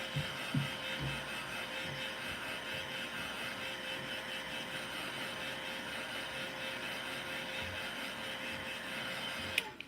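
A small electric heat tool runs steadily, drying wet Copic marker coloring on a greeting card, giving a constant whirring hum from start to finish, fairly faint and with no talking over it.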